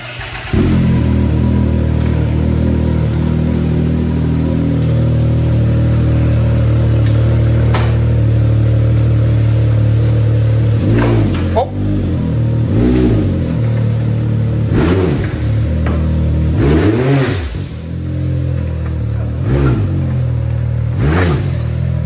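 A Can-Am X3 turbo side-by-side, fitted with Dodge Cummins truck tires, revs hard while driving, its engine loud and close with a steady drone broken by repeated sharp rising and falling revs in the second half.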